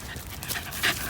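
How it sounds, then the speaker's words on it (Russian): A pet dog pants softly in the background near a campfire in a forest, a brief run of quick breaths with a short louder puff toward the end. "И псинка тут на фоне, да, Май?"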